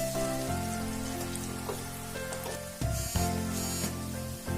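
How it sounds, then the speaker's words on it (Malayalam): Loud, continuous sizzling and crackling of tender jackfruit deep-frying in hot coconut oil over high flame, steady throughout with a brief burst of spattering midway. "ഈ ചക്ക അതിനകത്തേക്ക് ഇട്ട് വറുത്തെടുക്കുക"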